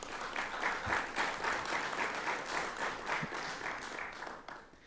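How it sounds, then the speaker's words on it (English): Steady applause from a crowd at a university athletic hall of fame induction ceremony, sustained clapping for nearly five seconds at moderate level before tapering off at the end. "Let's give them all a round of applause."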